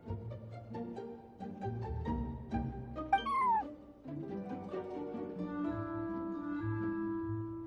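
A small orange cat in Genshin Impact lets out a clear, rising meow near the middle, heard over steady background game music with no talking.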